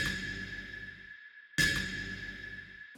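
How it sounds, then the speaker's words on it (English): Two percussive synth hits in an FL Studio Afro House track ring out with long reverb tails, the second striking sharply after a pause, each decaying slowly. "I have this percussion sound which I added a lot of reverb."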